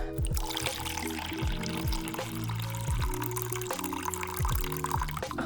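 Water is poured into a pot of half a cup of rice, faint and close, with a gurgling, splashing trickle and repeated falling-pitch glugs over a steady watery hiss.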